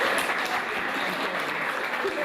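Thunderous applause from a crowd greeting a 25-year-old man meeting a boy and his parents for the first time, a dense, sustained roar of clapping throughout.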